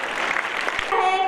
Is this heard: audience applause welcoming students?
yes